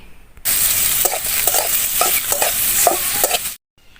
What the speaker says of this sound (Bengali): তেলটা গরম হয়ে গেছে দিয়ে দিলাম দুইটা বড় সাইজের পেঁয়াজ কুচি